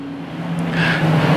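A race car on a racetrack under caution gives off a steady engine drone that swells slightly toward the end, loud and continuous with no voices.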